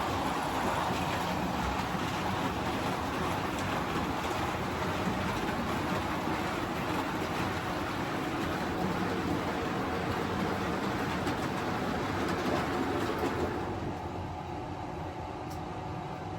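Model train running steadily on a home layout, a continuous close rumble and clatter of wheels over track, rocking briefly over a diamond crossing before easing slightly near the end, with no talk.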